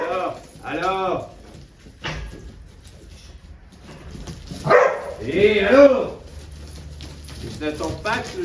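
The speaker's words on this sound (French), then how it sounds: "je n'attends pas que le chien soit en train d'aboyer depuis 5 minutes pour réagir" A young herding dog barks in short bursts during stock-dog training with a flock, the yaps close and loud, broken by gaps where someone talks and other noises of movement carry through.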